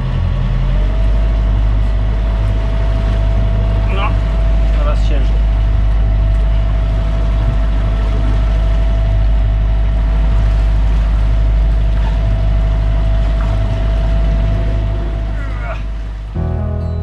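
A sailing yacht's motor runs loud and steady on open water, its low drone holding throughout with a tonal hum and brief squeaks, then cutting off near the end.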